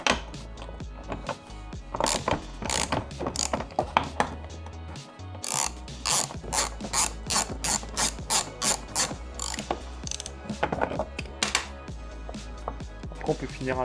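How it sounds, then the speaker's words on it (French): Ratchet wrench unscrewing a 17 mm nut on a Peugeot 106 XSi fog light, a close, loud series of sharp rhythmic clicks in bursts, pausing briefly before quick repeated strokes. "il y a un trou qui vous permet de passer votre embout pour dévisser l'écrou"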